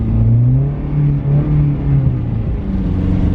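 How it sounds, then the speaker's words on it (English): Engine of a bagged Honda S2000 droning loud and steady as its wheels spin without traction on snow going uphill, a continuous revving whir close by. "spinning, not catching traction. It's not catching traction. I'm spinning out."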